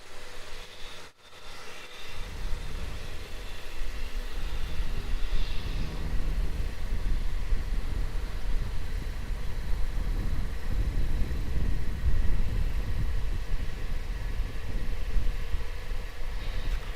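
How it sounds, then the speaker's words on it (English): Qantas Link Dash 8 300 turboprop rolling for takeoff on a runway at Melbourne Airport, a distant, steady engine roar building gently and holding, heard from afar with no talk. "Qantas Link 57 here, rolling 16 off to Devonport. Dash 8 300."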